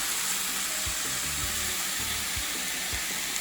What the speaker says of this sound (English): just the water sizzling out